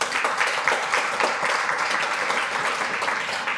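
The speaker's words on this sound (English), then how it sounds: "Let's give a big round of applause to SEPCO." Close, loud and dense applause from a live audience at an art startup pitch show, steady clapping throughout with no break.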